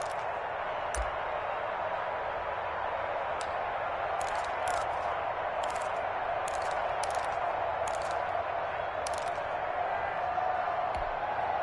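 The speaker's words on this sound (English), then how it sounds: "The crowd getting into it as we come up on a big 3rd down." Crowd noise swells in a PS4 football video game ahead of a big third down, a steady stadium roar rising in the background beneath sharp intermittent clicks and a commentator's voice.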